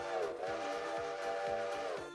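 A steam train whistle in a railroad video game blows as a sustained, fairly quiet chord-like tone over a rhythmic chuffing pulse of the locomotive beneath it.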